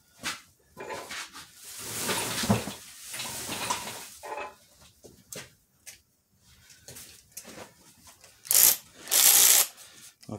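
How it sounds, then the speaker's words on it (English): Timing cover bolts being removed from a Jeep 4.0 engine during a rebuild, with close ratchet clicks and metallic handling in irregular bursts separated by quiet gaps, plus a couple of louder clattering knocks near the end. "I'm gonna start pulling out these timing cover bolts"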